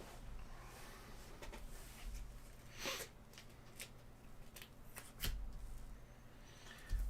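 Marvel Champions cards are handled, sleeved cards slid out and shuffled, giving close, soft papery rustles and a few sharper flicks and taps in a quiet room.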